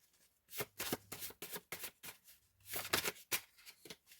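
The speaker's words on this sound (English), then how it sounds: "Let me shuffle one more time" Cards being shuffled in quick repeated riffles, crisp bursts of flicking close by with short pauses between them.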